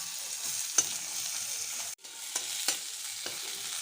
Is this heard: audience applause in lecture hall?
no